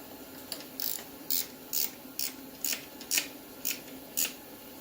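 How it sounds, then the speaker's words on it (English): A ratchet wrench tightens a bolt during a welding job, with about eight quick rasping ratchet strokes in a steady rhythm, close and clear with no talk. "I'll just use a wrench, ratchet wrench."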